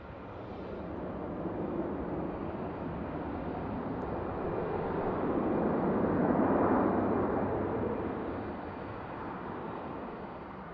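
Jet airliners arriving and departing at Raleigh-Durham International Airport in the evening, a steady broad engine roar that swells louder toward the middle as one passes nearer, then eases off, with no talk.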